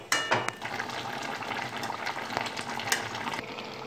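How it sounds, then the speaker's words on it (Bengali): Drumsticks and potatoes boil in water in a pan for a drumstick curry, giving a bubbling, sizzling hiss with a sharp splash or clatter at the start and steady activity after it. "এই জলটা দিয়ে ডাঁটা আর আলুটাকে আমি সেদ্ধ করে নিচ্ছি"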